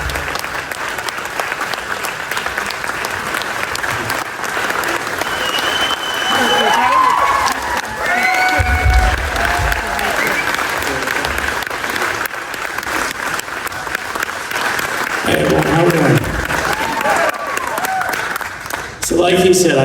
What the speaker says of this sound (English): Give a rousing round of applause to Phil Fulbright, the U.S. Marine Corps